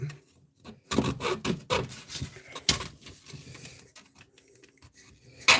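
A hand saw cuts through a thick plastic part from a Revell 1:426 U.S.S. Arizona model kit, giving a series of uneven, close rasping strokes with short pauses between them.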